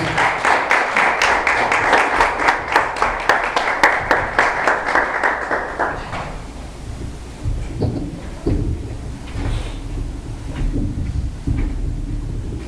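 A church congregation claps in praise, loud rhythmic clapping in unison for about six seconds, then it breaks into scattered claps and murmuring voices.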